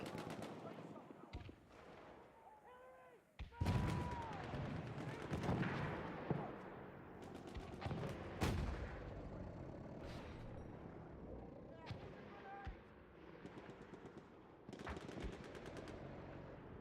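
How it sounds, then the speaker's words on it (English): Explosive mortar blasts and gunfire in a 5v5 Incursions match of the PC shooter Tom Clancy's The Division, sharp booms and bursts scattered over sixteen seconds with a caster talking throughout. "Mortar by Frax."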